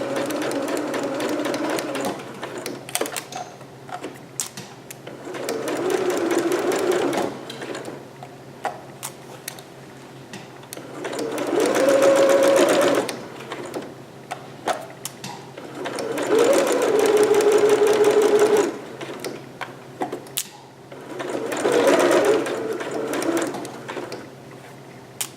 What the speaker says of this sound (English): So I'm just stitching this down with a permanent stitch at 5/8.